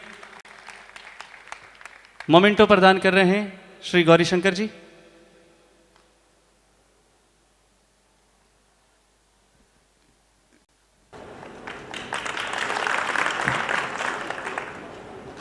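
Applause from the audience at a Maheshwari youth organisation's felicitation event in Kolkata, where a memento is being presented. A man's announcement and a silent pause come first, then steady clapping builds for the last few seconds.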